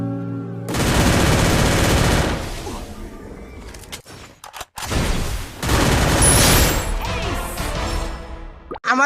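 Rapid automatic gunfire from the Free Fire battle-royale mobile game, loud and dense in long sustained bursts with brief gaps and a few sharp single shots between them.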